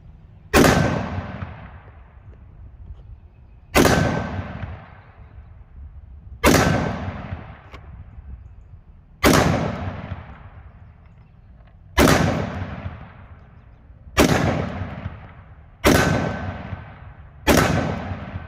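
Ruger SFAR rifle firing .308/7.62x51 rounds outdoors, eight loud sharp shots spaced a few seconds apart, each with a ringing decay and no talking.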